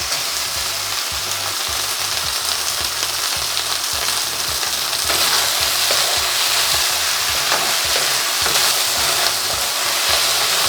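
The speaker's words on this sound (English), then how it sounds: "As we turn it over, we can try to sear the remaining sides of the beef" Beef sears in a hot pan, making a loud, dense, continuous sizzle close up that swells partway through as the pieces are turned, with light stirring clatter underneath.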